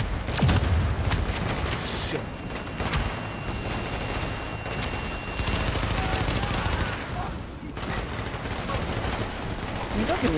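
Rapid SMG gunfire from The Division video game, dense bursts of shots and booms running through most of the stretch, with people talking over the action.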